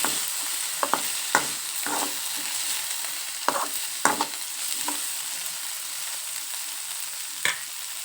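Leftover chapati pieces with masala frying in a pan, a steady sizzle running throughout with occasional sharper scrapes and knocks of a spoon stirring, close and with no one speaking.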